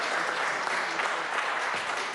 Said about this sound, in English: I couldn't hear over the applause